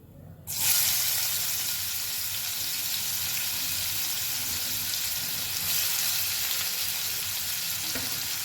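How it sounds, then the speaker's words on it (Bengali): Chopped onion hits hot oil in a pan for palak paneer, erupting into a loud, steady sizzle after a brief quiet moment, then crackling on evenly throughout with no talking. "দিয়ে দেব কুচো করে রাখা পেঁয়াজ"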